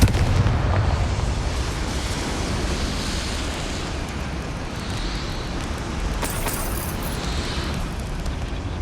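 A Confringo blasting spell explodes in the Hogwarts Legacy video game. It makes a loud, continuous roaring rumble that fills the whole stretch, with a brighter crackling burst near the end.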